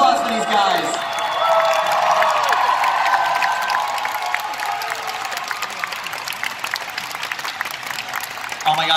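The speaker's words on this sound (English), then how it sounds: "Let's have a huge round of applause for these guys." A big crowd at the Anime Expo 2018 Masquerade applauds and cheers the costumed volunteers on stage, with loud sustained clapping, some whoops and voices mixed in, and the ovation easing slightly toward the end.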